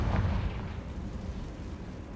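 A Confringo fire spell explodes in the Hogwarts Legacy video game, a loud, deep booming blast that rolls off into a sustained rumbling roar.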